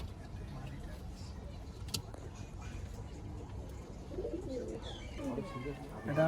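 Pigeons coo softly in a loft, low murmuring calls that grow a little more distinct toward the end, under steady background noise with a car faintly audible and people talking.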